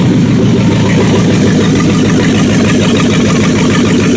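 A rebuilt 318 V8 in a 1976 Dodge Coronet runs on open manifolds with no exhaust pipe, a loud, harsh, continuous close-up roar with a rapid uneven firing texture.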